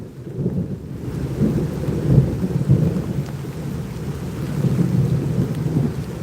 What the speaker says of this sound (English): Raining in our garden